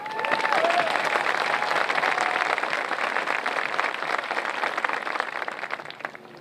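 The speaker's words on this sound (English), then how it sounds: "Can we get a round of applause for them?" Sustained audience applause at a high school graduation ceremony, a dense wash of many hands clapping that stays steady and loud before easing slightly toward the end, with a faint voice briefly heard at the start.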